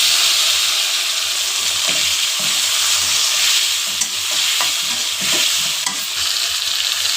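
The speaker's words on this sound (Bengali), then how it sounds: "এবার দিয়ে দেবো কেটে রাখা টমেটোগুলো।" Chopped tomatoes hitting hot oil in a wok with nigella seeds, a loud steady sizzle with stirring scrapes and small pops throughout, no voices.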